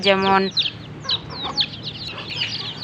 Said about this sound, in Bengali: তো খাবারগুলো সবগুলো মুরগি খাচ্ছে